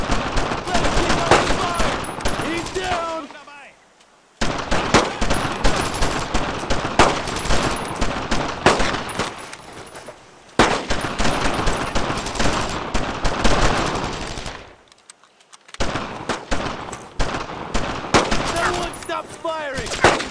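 Dense WWII gunfire in Brothers in Arms: Road to Hill 30, with rapid rifle and machine-gun bursts loud and continuous, broken by a few short silent gaps, and soldiers shouting beneath the shots.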